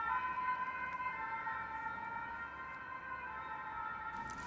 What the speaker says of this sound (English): We hear sirens coming closer